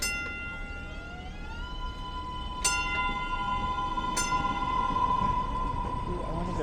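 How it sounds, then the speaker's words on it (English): Urban train pulling away from a station in Allston/Brookline, with rising tonal whine from the motors, sharp mechanical clunks and rumbling as it moves off under steady city noise. "I had him pull away right as I walked up to the door."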